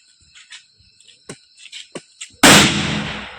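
A firecracker set off in a village field to drive away nilgai bursts in one loud, sharp bang that rings and fades, after several seconds of faint chirping insects and small scattered sounds.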